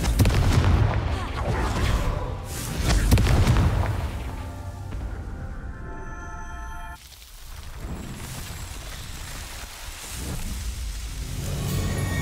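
The Confringo blasting spell in Hogwarts Legacy sets off loud, booming explosions, heavy blasts early on with rumbling bursts and a steady roar continuing throughout, with music and game effects layered underneath.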